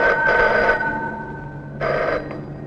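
A telephone rings twice in short electronic bursts, separated by a pause, over a steady low hum.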